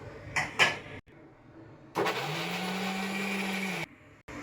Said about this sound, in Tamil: இப்போ அதே மிக்சி ஜாரில் வெங்காயத்தை கொஞ்சம் கொஞ்சமாக போட்டு கொஞ்சம் குறை குறைப்பாக எடுத்துக்கலாம்